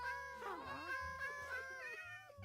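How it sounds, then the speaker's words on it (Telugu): Several cats meowing in Minecraft, overlapping high, wavering mewing calls that rise and fall continuously at close range with no talk. "డిఫరెంట్ టైప్స్ ఆఫ్ క్యాట్స్ వస్తున్నాయి"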